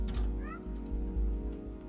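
The cat in the video game Stray gives a brief, mid-pitched meow, close and fairly clear over a steady low game hum and soft thumps.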